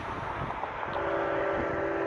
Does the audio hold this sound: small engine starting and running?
no